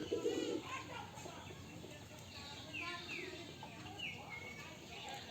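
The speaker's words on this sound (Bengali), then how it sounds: "এখন ওই যে গাছের উপরে দুইটা কবুতর আছে ওরাও খাবারের জন্য নামবে" Soft coos from Giribaj pigeons on a pigeon farm drift in faintly from a distance, a few brief calls scattered over a quiet outdoor background.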